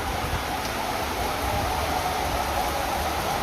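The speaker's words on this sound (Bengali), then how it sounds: "বছরের প্রথম বৃষ্টি হচ্ছে, দেখেন" The year's first rain falls as a steady, even hiss of dense rainfall, constant and moderately loud throughout with no voices.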